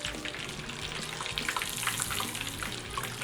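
Breaded chicken nuggets sizzle in hot oil, making a bright, steady hiss dotted with small pops and crackles, heard close up.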